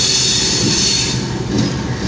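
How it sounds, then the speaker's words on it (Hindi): A diesel locomotive uncoupled from its train and pulling away to change direction at a station between Walton and Kasur Junction, heard as a loud, steady engine rumble with a hissing wash of rail noise and faint wheel squeal. "ये हमारा लोकोमोटिव डीकपल हो गया और ये अब रुख चेंज करने"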